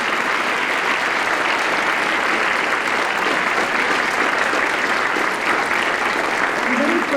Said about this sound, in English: So can we just get one more round of applause for all the work that Mr.